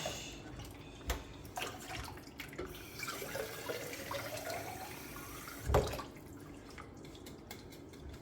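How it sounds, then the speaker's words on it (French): Water runs faintly into an Air Up reusable bottle, a soft steady trickle with scattered drips and one dull knock partway through. "remplir d'eau, hein, c'est ça qu'on va faire"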